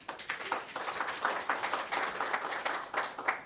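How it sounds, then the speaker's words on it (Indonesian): An audience at a product presentation on a green tea supplement bursts into applause, a lively, moderately loud patter of many hands clapping that rises and holds steady with no talking. "Tepuk tangan dong."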